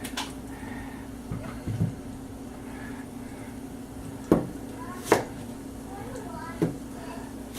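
A knife chops a short, fat sweet onion on a cutting board, giving a few sharp, separate knocks spread out over quiet kitchen hum, with someone talking between the cuts.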